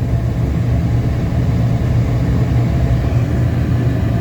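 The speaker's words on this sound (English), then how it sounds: "I'll give it a little rev." A Fiat 500 with a 1.2 engine runs with its headlights on full beam, heater on full and fog lights on, holding a steady, even engine drone. The sound stays close and fairly loud throughout, with no clear surge or peak.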